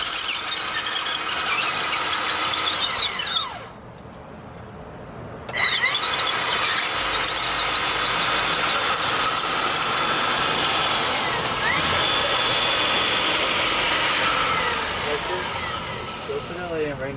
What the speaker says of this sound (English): so that way I could finish drilling this hole